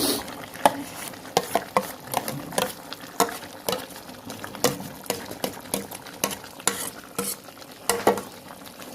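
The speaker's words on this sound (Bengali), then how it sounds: "এটা দিয়ে ভালো করে কষাবো" Chicken curry masala paste stirred and fried in a pan: steady, rhythmic scraping strokes of a spoon over a low sizzle, close and fairly loud, with no talking.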